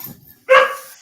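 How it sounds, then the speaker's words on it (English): A dog gives a single sharp bark at mid-distance, loud and brief, after a moment of near quiet. "the dog's barking"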